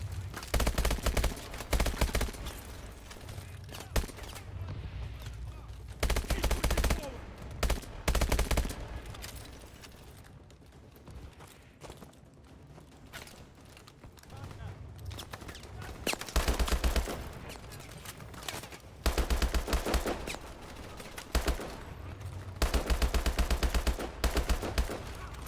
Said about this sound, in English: wouldn't like the sound of all these gunshots cause potential cave-ins?